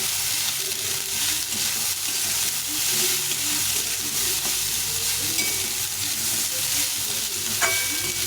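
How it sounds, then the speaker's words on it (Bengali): Leftover rice frying in a pan with salt and turmeric, a loud continuous sizzle with stirring scrapes running all the way through, close and steady. "এখন এর মধ্যে দেবো কিছুটা লবণ আর হলুদ গুঁড়ো দিয়ে এটাকে ভালো করে ভেজে নেব"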